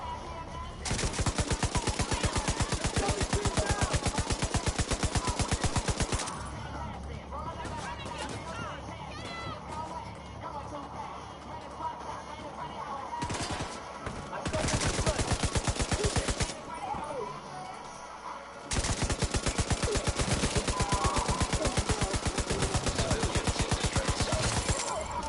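Sustained automatic rifle fire from the video game The Division 2, long rapid bursts of dense shots ripping loudly across most of the stretch, broken by short lulls filled with game ambience and distant chatter.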